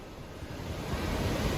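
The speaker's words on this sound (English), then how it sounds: "We're right here at Blackwater Falls." Blackwater Falls, swollen after heavy rain, rushes as a dense, steady roar of falling water with broadband noise filling the whole clip, slightly building and with some wind buffeting.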